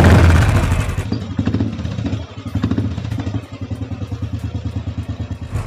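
A Royal Enfield Bullet Classic 500cc motorcycle engine cranks with an electric starter whir and catches, then settles into a steady, thumping idle close by.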